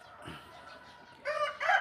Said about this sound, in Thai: บ้านนอกบ้านเฮาได้ยินเสียงไก่เสียงกา